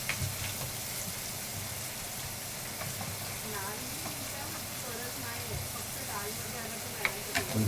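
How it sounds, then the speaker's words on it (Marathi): Chopped onion hits hot oil in a pan for egg bhurji and sizzles steadily, a loud continuous frying hiss with occasional stirring clinks, while someone talks over it. "बघा किती छान आवाज आला टाकलेला की कांदा आणि हे"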